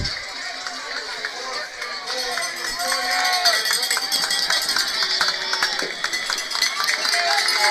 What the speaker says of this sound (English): Crowd's really into it. Very loud.